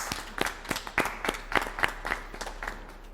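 A small group claps at a church ministry press conference in Durban, a fairly quiet, uneven patter of individual claps with distinct separate hits throughout.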